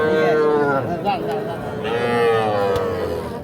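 Bull calves and cattle moo loudly and close at a cattle market, a couple of drawn-out calls with faint crowd noise behind.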